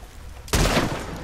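A sudden close gunshot blast fires in the video game Red Dead Redemption 2 after a quiet moment, then rings out and decays over rumbling background.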